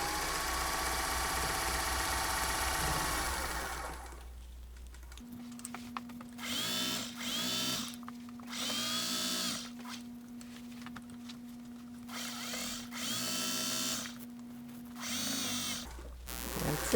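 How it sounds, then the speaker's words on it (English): A zigzag sewing machine stitches the edge of upcycled denim for a satchel bag, running in several short whirring bursts separated by pauses under a steady low hum, after a louder mechanical stretch at the start. "if you are using a zigzag machine, you can just go and zigzag it, right? The edge."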